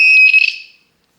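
A coax cable toner gives one solid, high-pitched electronic beep lasting under a second, loud and close, then cuts to silence.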